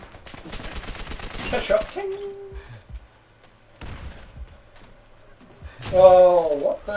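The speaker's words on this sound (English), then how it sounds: "Someone just done me with a fucking trench gun?" Trench gun shotgun blasts in Call of Duty: World at War, a few loud, sharp bursts at the start and end separated by quieter gaps, with someone talking over parts of it.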